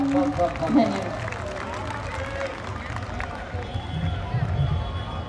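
Audience applause in a hall at a Dussehra poetry gathering, a steady dense wash of clapping with crowd noise and a voice talking over it partway through.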